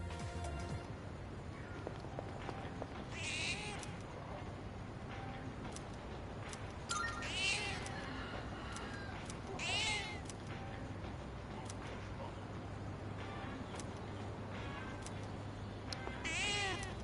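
A cat in Persona 3 meows again and again, four or five high, drawn-out cries spaced a few seconds apart over a constant low hum of game background noise.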